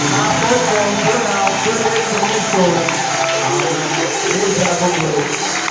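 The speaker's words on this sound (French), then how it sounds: "je souhaiterais que nous acclamons très fort pour notre pasteur" A church congregation cheers and acclaims its pastor in a loud, sustained wash of voices and clapping that continues without a break.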